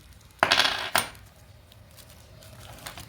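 Coins clink and rattle as they are handled during an unboxing of Indian rupee coins, with two sharp metallic bursts close by, followed by quieter scattered clinks.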